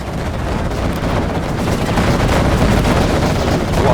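Quad cannon gunfire in the Command & Conquer Generals Zero Hour video game, a loud dense stream of rapid automatic bursts and booms that continues without pause, with no talk.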